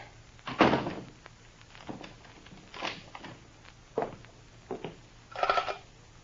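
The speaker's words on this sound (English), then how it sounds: "lock the cabin door" Several dull thumps and clunks of a cabin door being shut and locked aboard ship, spaced irregularly and fairly close, in an otherwise quiet room with no talking.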